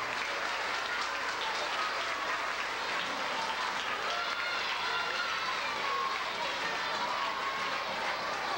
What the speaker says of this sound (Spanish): Fuerte el aplauso para ellos, para el ejemplo que dan ellos.